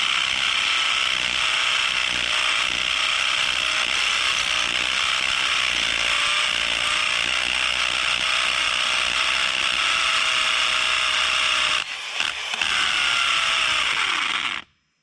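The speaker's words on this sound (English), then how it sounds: "let the drill and let the hammer and the drill do the work and tap that concrete" A hammer drill bores into concrete in a loud, steady, close rattling whine that holds for about twelve seconds, briefly stutters, then runs again before cutting off.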